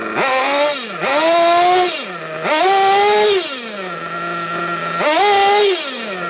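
Small nitro-fuelled RC car engine, warmed up and being tuned, revving loudly in repeated bursts that rise and fall between a steady buzzing idle, alone with no talking.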